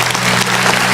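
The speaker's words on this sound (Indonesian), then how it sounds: "Yang percaya kasih tepuk tangan untuk Tuhan." A church congregation applauding during a sermon, a dense, loud, continuous burst of clapping from many hands filling the space.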